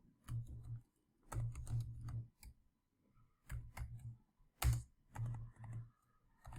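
Quiet, close keystrokes on a computer keyboard come in short bursts of rapid clicks separated by silent gaps.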